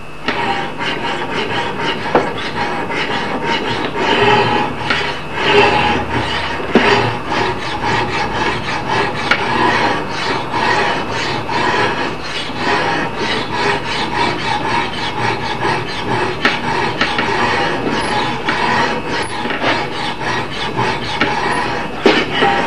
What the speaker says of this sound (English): I've just got to keep filing this now